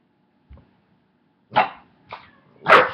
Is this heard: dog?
yes